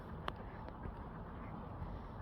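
Wild ducks quack outdoors in an old town area, a few short distinct calls, one louder near the start and fainter ones later, over quiet background ambience.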